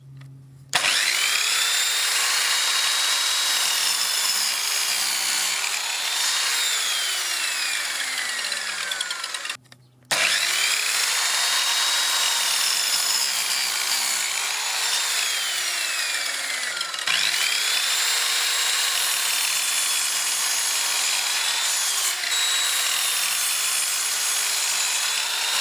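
A Parkside PKS 1500 mitre saw cuts through 70 mm-thick wood, beyond its rated height, giving a loud, steady whining grind for about nine seconds, a brief pause, then two more long continuous cutting passes.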